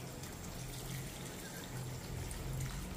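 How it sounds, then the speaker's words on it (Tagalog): Water is poured into a cooking pot of native chicken dinuguan with vinegar, a soft, continuous splashing trickle that stays steady and fairly quiet throughout. "Yan, magdagdag tayo ng tubig."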